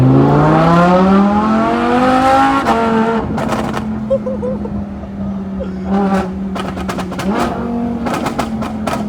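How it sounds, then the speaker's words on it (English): A Lamborghini with a loud aftermarket exhaust revs and holds a droning engine note, broken by several clusters of sharp, crackling pops like gunshots, loud and close. "you have a crazy exhaust on it, like it shoots gunshots"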